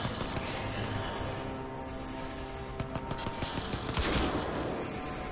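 Gunfire in the video game Crysis 2 rattles in rapid bursts of automatic fire and loud shots, dense and continuous, with a sharp blast near the end.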